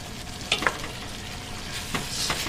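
A spoon stirs beef stew with bay leaves in a pot over a steady low sizzle, with a few close scrapes and clinks scattered across the bubbling.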